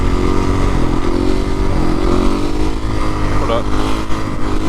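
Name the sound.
Suzuki RM-Z450 supermoto motorcycle engine revving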